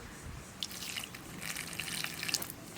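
Water trickles and drips steadily at close range into fried spices, a light splashing pour with small droplet sounds over a soft background.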